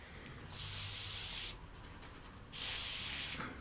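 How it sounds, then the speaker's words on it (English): Two long hissing bursts from an aerosol can of basting spray, each about a second, close up with a quiet pause between. "putting some basting spray"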